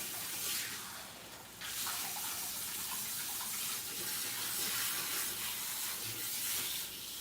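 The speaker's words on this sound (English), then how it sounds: "So I'm going to rinse her out" Running tap water rinses out hair during a relaxer and protein treatment, a steady broad hiss of flowing water that holds at an even level for several seconds, with no voices.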